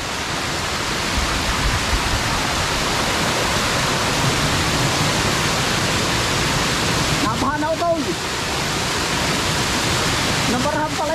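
Floodwater rushes over a mountain road in a steady, loud, broadband roar that never lets up, with brief faint higher chirping sounds partway through.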